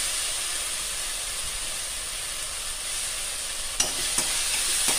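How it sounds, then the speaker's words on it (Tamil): Turkey berries (sundakkai) sauté in a little oil in a kadai, making a steady, even sizzle with a few faint clinks of stirring near the end. "லேசாக 1-2 நிமிஷம் வதக்குங்க"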